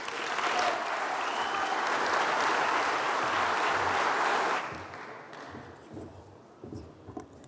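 An audience at a members' assembly applauding to welcome former Swiss federal councillor Micheline Calmy-Rey, loud sustained clapping for about four and a half seconds, then fading to a few scattered claps and shuffles.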